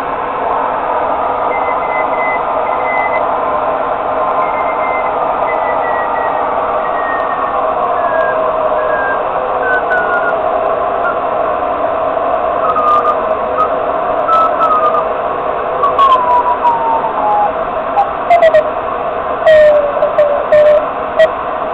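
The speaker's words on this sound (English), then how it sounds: "there isn't a whole lot going on for CW or Morse code in the middle of the day" Radio receiver tuned across the 40-meter amateur band, giving steady hiss and faint drifting tones, with weak Morse code CW signals keying in short bursts near the end.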